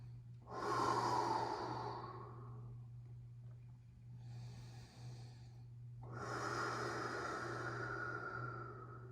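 Slow, deep breathing during a mountain yin yoga class comes as three long, quiet breaths, each swelling and fading, spaced by pauses over a faint steady hum.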